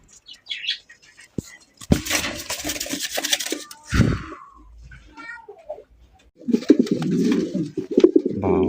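Fancy racer pigeons coo and call in bursts near the listener, with louder stretches around the middle and end and brief quiet gaps between.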